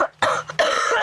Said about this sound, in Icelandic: Ég er með hósta